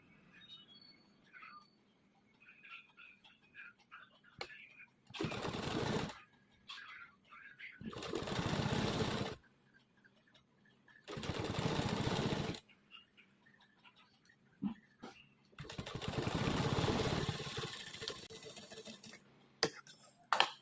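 A sewing machine stitches the side seam of a pair of pants in four bursts of loud, steady whirring, each lasting one to two seconds, separated by quiet gaps with faint background chirps.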